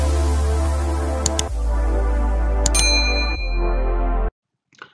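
A notification bell ding sound effect, three bright metallic chimes that each ring out with a sustained humming tone before cutting off abruptly, followed by silence and a faint tail.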